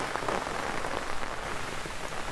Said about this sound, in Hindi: होशंगाबाद ज़िले में दो दिनों से बहुत तेज़ बारिश हो रहा